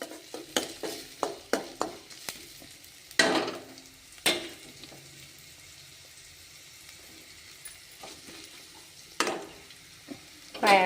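Curry leaves, coriander and green chillies fry in a pan: a burst of quick scrapes and crackles at the start, then a low, quieter sizzle with occasional stirring knocks.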